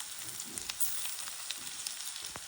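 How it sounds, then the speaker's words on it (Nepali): Capsicum, carrot and finely chopped cabbage frying for a Nepali-style pasta, a dense steady hiss of sizzling oil filling the pan with faint stirring clicks, close and continuous. "अब क्याप्सिकम राख्ने, त्यसै गरी गाजर र मसिनो गरी काटेको बन्दाकोपी पनि राख्नु होला।"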